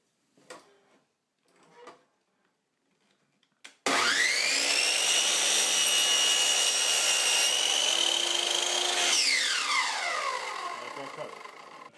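A power saw cuts crown molding held on a jig. Faint handling sounds come first, then the motor starts abruptly into a loud whining cut that holds steady and winds down near the end.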